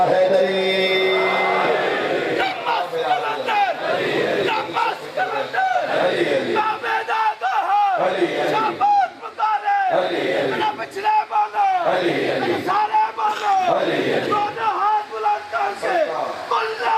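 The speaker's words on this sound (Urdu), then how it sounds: "اللہ ہاتھ بلند کر کے نعرہ حیدری" A crowd at a Muharram majlis shouts the Naara-e-Haidari slogan in repeated loud, rhythmic bursts, answering a speaker's calls in waves.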